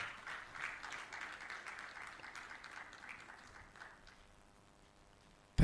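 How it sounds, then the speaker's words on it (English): An audience at a live-streamed event applauds, a moderately distant wash of clapping that stays fairly even for several seconds and then fades toward silence, with no voices over it. "please can you help me give a very big round of applause"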